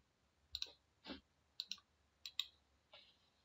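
Computer mouse clicks while modelling in Rhinoceros 3D software, short crisp clicks arriving singly and in quick doubles, about five bursts spaced through a quiet background with no talk.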